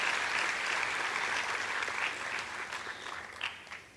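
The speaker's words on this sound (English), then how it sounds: "A round of applause, ladies and gentlemen." A lecture audience claps at a peace lecture, giving a dense, sustained round of applause that tapers off toward the end, with a few louder individual claps near the close.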